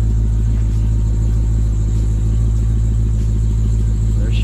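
A 1,000 hp Dodge Hellcat rolls off a trailer, its engine giving a deep, steady, loud rumble close by with no voices over it.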